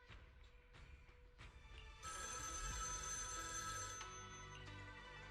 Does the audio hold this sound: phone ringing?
yes